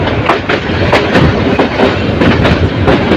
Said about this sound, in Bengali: এই বাঁক অতিক্রম করে যাচ্ছে ট্রেন